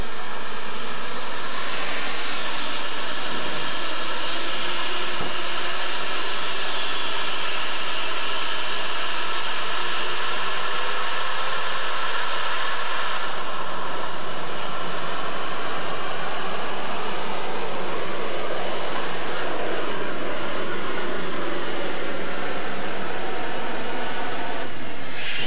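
Unlimited modified tractor engine roaring during a USHRA tractor pull at Chapel Hill, Tennessee, a loud, sustained high-pitched scream that holds steadily for the whole stretch with no talk over it.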